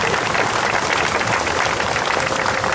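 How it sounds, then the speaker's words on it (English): Sustained audience applause at a Buc-ee's grand opening, a steady, dense wash of clapping at even loudness with no talk over it. "go ahead and give them a round of applause"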